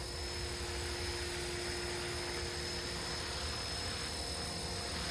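A Blade Fusion 360 RC helicopter hovers with a steady, continuous high-pitched rotor and motor whine, constant in level throughout with no talking.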